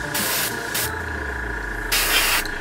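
An airbrush sprays paint onto Eldar Striking Scorpions miniatures, giving three short, close hissing bursts of air separated by quieter gaps.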